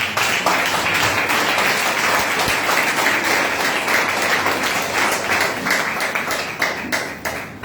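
A congregation applauds to welcome a bishop at a church service, dense sustained clapping from many hands filling the room steadily, fairly loud and close.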